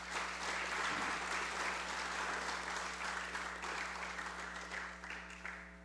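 Steady applause from a congress session audience fills the room, a dense, even clatter of many hands clapping that holds at a constant level for several seconds with no voices on top.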